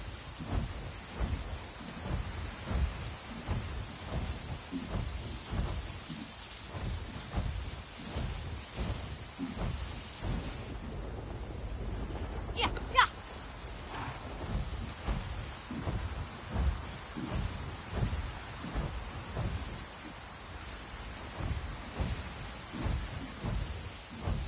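A thunderstorm in the video game Avatar Frontiers of Pandora: steady rain pattering on surfaces throughout, with low rolling thunder pulsing underneath and a sharper crack near the middle.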